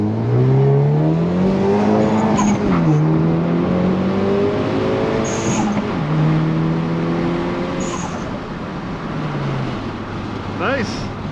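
A 2020 Hyundai Veloster N with 250 horsepower pulls away hard from a green light, its engine note climbing through rising harmonics with a shift, loud and steady under continuous in-car talk.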